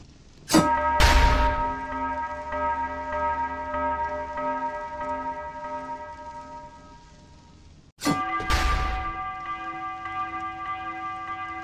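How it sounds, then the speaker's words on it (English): A bell tower bell in the video game Dead Cells is struck twice, several seconds apart; each loud strike rings out in a long, shimmering metallic tone that slowly fades. "When you hit one of these bells, you'll hear a sound and will see some sound waves emanate from the bell."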